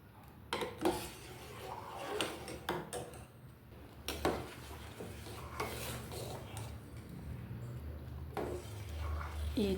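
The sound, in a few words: stirring payesh (rice pudding) in a pot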